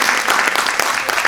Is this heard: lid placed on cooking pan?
no